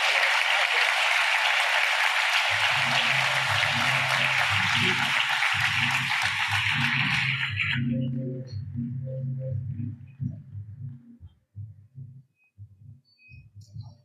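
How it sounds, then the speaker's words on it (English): A conference crowd at the Schools2030 Global Forum gives a long round of applause for the city of Porto, dense clapping for about eight seconds under a low rhythmic music beat, then fading out as the beat carries on alone. "I'd like to ask you a big round of applause for the city of Porto"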